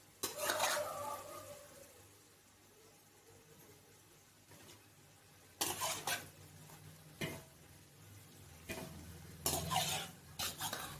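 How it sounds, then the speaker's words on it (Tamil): Chicken stirred into fried onion-tomato masala for biryani: a loud clattering spoon-on-pot stir at the start, quieter low sizzling, then several sharp scraping bursts of stirring near the end. "சிக்கனை சேர்த்து நல்லா கலரி விட்டுருணும்."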